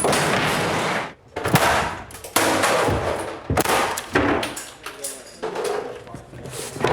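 Squib charges detonating across a film set while shooting The Punisher (2004): a dense, chaotic run of sharp pops, cracks and thuds, loud and close, with scattered debris clatter and some talk mixed in.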